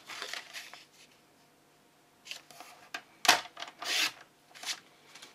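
Pink cardstock is cut to size for a card topper, giving a few soft, close slicing and rustling strokes with brief pauses between them and no talking.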